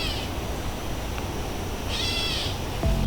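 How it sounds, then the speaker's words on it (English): A gray catbird gives a single soft, cat-like mewing call amid steady outdoor background noise, moderately distant. "Must be a catbird, named for its mewing-like call."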